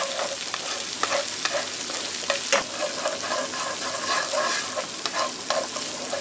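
Garlic and doubanjiang fry in oil over low heat while being stirred for a spicy braise of chicken drumsticks and daikon. A steady close sizzle carries repeated spatula scrapes and taps, and there is no speech.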